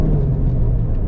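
A Volkswagen Golf GTI Clubsport S on a drive gives a steady, loud, low engine and exhaust drone that fills a short stretch without any voices.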